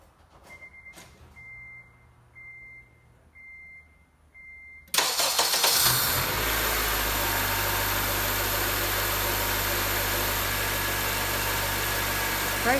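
A car's ignition chimes beep repeatedly before the engine cranks and catches, then it settles into a loud steady fast idle at a high 1500 RPM, tied to an idle air control valve problem. Close, no voices.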